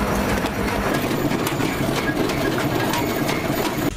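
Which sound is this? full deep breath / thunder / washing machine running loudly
washing machine running loudly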